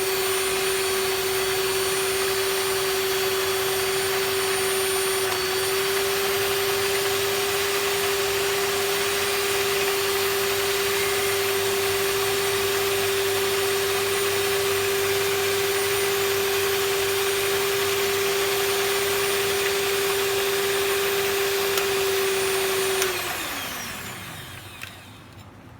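A stand mixer runs steadily on low speed, blending flour for a pineapple upside-down cake, its motor whine loud and constant near the microphone for over twenty seconds before winding down at the end.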